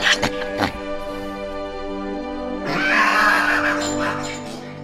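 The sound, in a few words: pigs squealing mournfully at a pig slaughterhouse, cartoon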